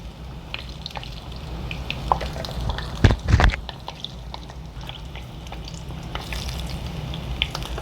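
Sorullitos, Puerto Rican corn fritters, frying in hot oil in a pan, a steady close sizzle with scattered crackles and pops and a brief louder burst of spattering partway through.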